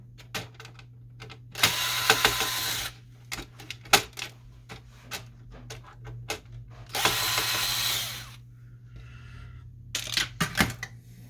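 Screws come out of a Canon MG6620 printer during disassembly: close, dry ratcheting clicks and scattered taps, with two longer buzzing bursts of driving in a quiet room.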